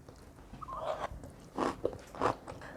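Someone bites and chews a crunchy seasoned namul side dish, made with sesame, up close. Three or four distinct crisp crunches come at uneven intervals against quiet room tone.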